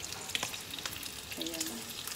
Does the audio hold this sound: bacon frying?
yes